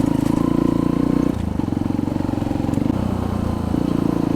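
A Kuba Race 125 motorcycle engine runs steadily in fifth gear at low road speed, a loud, close, low-pitched drone with a fast regular pulse and brief shifts in throttle.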